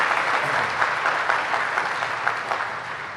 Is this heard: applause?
yes